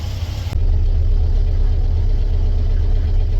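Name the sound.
1958 VW Beetle engine running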